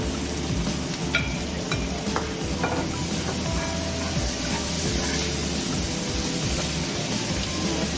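Beef marinated in lemon, soy sauce and pepper fries in a pan for beef mechado, a steady loud sizzle and crackle running throughout with occasional stirring clatter.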